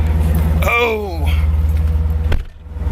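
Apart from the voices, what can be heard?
car engine starting after a jump start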